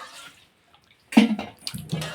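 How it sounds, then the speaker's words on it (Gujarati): Water is poured into thickened urad dal cooking in a pot: after a quiet moment, a short, close splashing pour starts abruptly, then comes in a few uneven gushes. "જાડી થઈ ગયેલી છે તો થોડું પાણી એડ કરી દઈએ."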